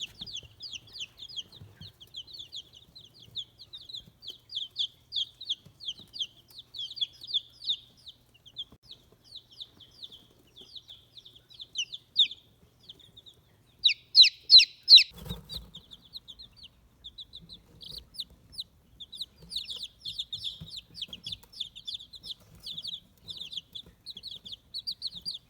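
Australorp, leghorn cross, white leghorn pullets and Americana chicks cheep constantly in a bin, with high, rapid peeps throughout and a brief burst of louder clucking and fluttering in the middle.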